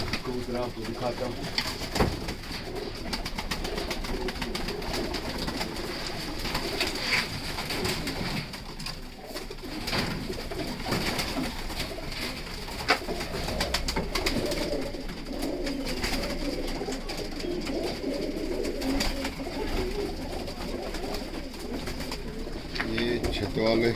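Sialkoti pigeons coo softly and repeatedly in low, throaty calls amid outdoor rooftop ambience, with occasional rustling and some talking in the background.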